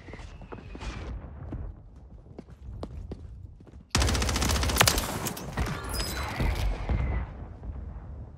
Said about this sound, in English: There's just explosions going off in my ear.